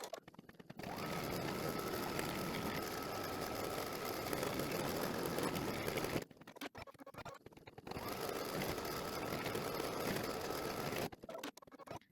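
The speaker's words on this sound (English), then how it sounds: "I'm going to run the tack down stitch" An embroidery machine runs the tack-down stitch on an in-the-hoop daisy towel topper with a steady, close mechanical hum and needle chatter. It pauses briefly near the middle, then resumes for a second long run.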